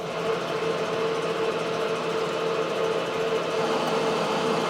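A machine tool cuts metal for a bushing knockout tool, giving a steady, even mechanical hum and whir that holds constant throughout without pauses.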